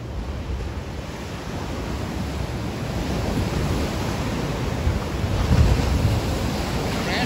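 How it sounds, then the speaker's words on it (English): Ocean surf washes onto the beach at Tybee Island on a chilly day, a steady broad roar with wind buffeting the microphone and one slightly stronger swell near the end, no voices. "Crashing waves."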